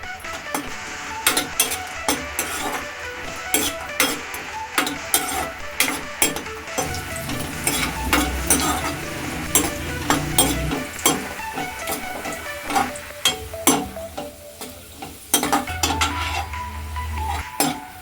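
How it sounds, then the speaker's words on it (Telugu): Cashews and raisins fry in ghee, a low close sizzle under frequent metal spoon clinks and scrapes against the pan, busy and irregular throughout, with no talking. "నెయ్యి వేడెక్కాక జీడిపప్పులు, కిస్మిస్లు వేయించుకోవాలి."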